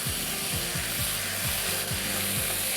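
Strips of steak with edamame and peppers sizzle loudly in a hot pan, with a continuous close frying hiss and a repeated rhythmic scraping as the food is tossed and stirred.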